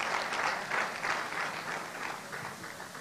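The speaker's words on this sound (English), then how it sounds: "So a round of applause for the God Almighty." At a career development program event on thriving in the digital workplace, an audience claps in a brief, lively burst of applause that stays fairly even and fades slightly toward the end.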